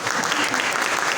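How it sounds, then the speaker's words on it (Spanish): Dense, steady audience applause fills a municipal council chamber during a historiography congress, honoring an economist; the clapping is close and continuous throughout, with no pauses. "Así que de nuevo un fuerte aplauso"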